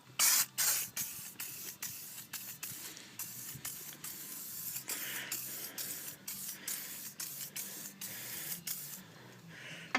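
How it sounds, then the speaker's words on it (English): An aerosol can of rust protectant hisses in repeated bursts onto a push mower deck, some short and some longer, sprayed close up with brief pauses and faint clicks between them. "So we're just going to spray up the deck."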